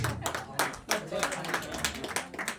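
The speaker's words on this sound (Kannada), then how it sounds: "ಚಪ್ಪಾಳೆನೂ ಹೊಡಿಬೋದು." Audience clapping at an awards ceremony in a Bangalore hall, a short burst of scattered hand claps close by, mixed with talking over it.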